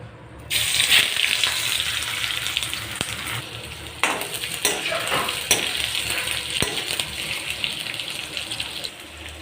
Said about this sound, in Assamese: এতিয়া গেছটো চিমত দি পেলাই এইদৰে মই পিঁয়াজখিনি অলপ সময় ভাজি ল'ম।